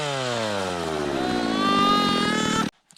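A Saker cordless mini chainsaw whirring close and loud, its motor pitch rising as it spins up over a couple of seconds before cutting off abruptly into silence.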